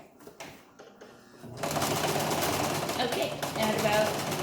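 Sewing machine double stitching a duckbill face mask, starting after a quiet second and a half of light handling clicks and then running as a fast continuous rattling whir close by.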